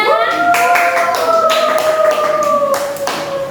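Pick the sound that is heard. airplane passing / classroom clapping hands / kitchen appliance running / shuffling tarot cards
classroom clapping hands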